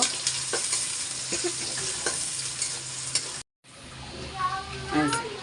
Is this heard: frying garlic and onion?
yes